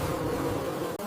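Stingless bees give a steady, dense buzz that carries on without a break, close and loud, with no voices.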